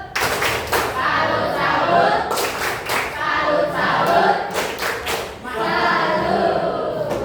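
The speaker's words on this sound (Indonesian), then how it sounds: "Berikan tepuk salut." High school class clapping in salute after a group presentation, several rhythmic bursts of patterned claps with pauses between, close and fairly loud in a classroom.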